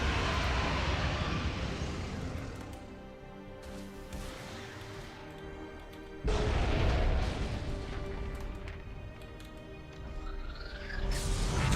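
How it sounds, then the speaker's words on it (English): Heavy booming blasts from torpedoes striking ships in the space battle game Battlefleet Gothic Armada 2, rumbling and fairly low, with two main impacts over a steady drone of engines and ambient battle noise. "Torpedoes made good effect."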